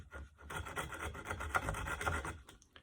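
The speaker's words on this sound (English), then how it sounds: "I'm just kind of sawing away at it." A knife saws steadily back and forth against a wooden stick, a close, continuous rasping scrape with quick rhythmic strokes and no talking.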